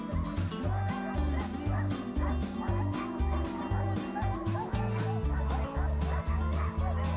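Alaskan Husky sled dogs barking and yipping excitedly in a close, dense chorus, rapid overlapping barks with whines, running continuously.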